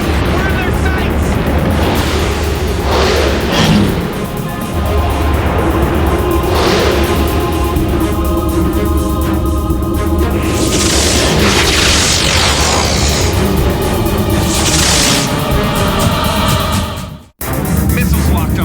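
Missile launches and explosions in the Wing Commander Academy space game, with repeated deep booms and whooshing bursts under a constant roar of engine noise and music, ending in a sudden cutoff.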